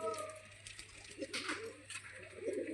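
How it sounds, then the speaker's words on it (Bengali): Old-generation Giribaz pigeons, including a red Jiriya bird with ghee-colored eyes, coo softly and repeatedly at close range over a steady low hum, with faint rustling between calls. "দেখুন লালজিরিয়া পায়রা"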